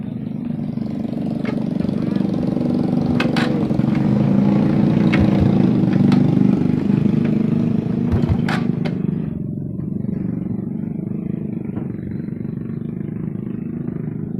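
Stalled motorcycle at a repair shop is started, its engine running with a steady low rumble and clatter throughout, easing off slightly toward the end.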